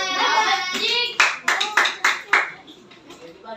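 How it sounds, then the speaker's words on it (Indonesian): Hands clapping in a primary school class, starting as loose patter under a voice and turning into about five sharp, evenly spaced group claps that fade at the end. "Tepuk tangan"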